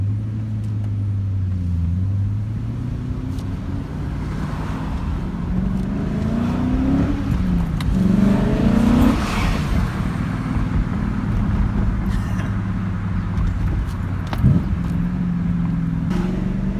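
A BMW E39 M5 cruises along with a steady, loud engine drone, its pitch rising and falling gently as the car changes speed. Road noise sits beneath it and nobody speaks.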